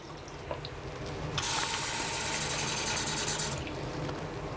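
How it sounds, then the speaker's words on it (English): Water pours into an Instant Pot holding beef stew in a small RV kitchen, a bright hissing stream lasting about two seconds amid faint clinks and mechanical clicks. "So I'm just putting some more water in here."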